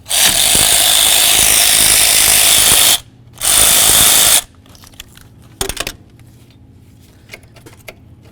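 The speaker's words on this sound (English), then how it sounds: "There's going to be a mounting nut. Let's get it off of there." A ratchet spins loose the coil bracket mounting nut on a Chevy S-10 engine, a loud rapid buzzing whirr in two long bursts, followed by quieter clicks and metallic handling of parts.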